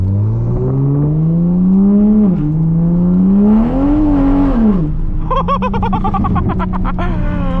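A modified car with a newly installed front bumper revs hard on the move, its engine note climbing, dipping and climbing again close and loud, with rapid rattling bursts near the end and an occasional voice in the cabin.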